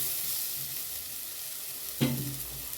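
Onion and tomato with curry leaves fry in a pan for a small fish curry, a continuous close sizzle with one brief scraping stir near the end and no talk.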